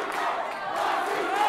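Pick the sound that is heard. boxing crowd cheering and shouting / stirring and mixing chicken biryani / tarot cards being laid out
boxing crowd cheering and shouting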